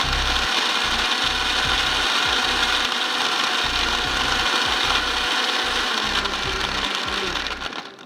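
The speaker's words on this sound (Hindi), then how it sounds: "इसको हम करते हैं ब्लेंड।" Blender grinding vegetable karahi ingredients, a loud continuous mechanical whir with rhythmic low thumps as the contents churn, running steadily for several seconds before easing off at the end.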